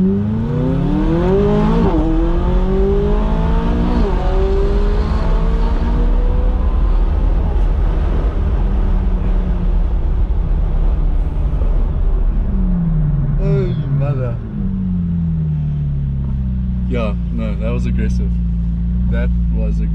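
A McLaren 570S engine in its most aggressive track mode revs hard in repeated rising pulls with turbo spooling and whooshing between them, loud and close from inside the car with windows open, while people talk over it.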